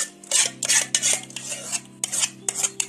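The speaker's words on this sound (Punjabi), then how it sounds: "ਹੁਣ ਆਪਾਂ ਸਾਰਾ ਹੀ ਜਿਹੜਾ ਆਮ ਪਾਪੜ ਇਸ ਦੇ ਵਿੱਚ ਕੱਢ ਦੇਾਂਗੇ ਥਾਲੀ ਦੇ ਵਿੱਚ ਗਰਮ ਗਰਮ ਹੀ ਕੱਢਣਾ" Hot aam papad made from raw mangoes is poured out and spread thin on a greased metal plate, with a series of close, bright scraping and clinking strokes of a utensil against the plate in an uneven rhythm.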